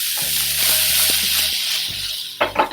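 White peas drop into a pan of hot oil tempered with cumin seeds, setting off a steady, close sizzle and frying hiss that carries through, followed by a couple of louder stirring bursts near the end.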